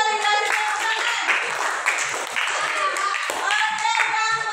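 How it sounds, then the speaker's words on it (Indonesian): A group of children clapping during a classroom lesson in a lively burst of quick, uneven claps that continues throughout, with voices chattering alongside. "Bagus sekali, kasih tepuk tangan."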